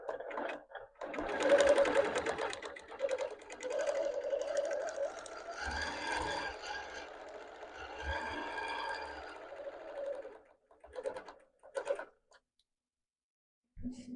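A BERNINA sewing machine stitching free motion quilting along a ruler guide, a steady buzzing hum with varying speed for about ten seconds, then brief clicks and stops, close and clear.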